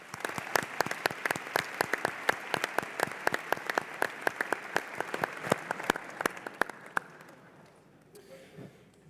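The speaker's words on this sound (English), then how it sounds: "let's give them a round of applause" Audience applauds two science bowl coaches at a middle school championship match, dense, sharp clapping close by that carries on steadily, then thins and fades out near the end.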